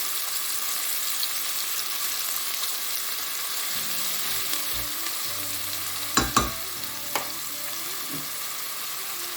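Chopped onion frying in a pan for an Italian ravioli and tortellini dish, a steady close sizzle throughout with a few sharp clicks and knocks of a utensil near the end.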